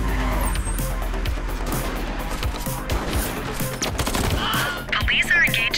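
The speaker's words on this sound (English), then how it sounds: "Police are engaged in a dramatic shootout." Shootout in the police video game The Precinct, with rapid bursts of gunfire mixed with car engine noise and crashes, loud and continuous throughout.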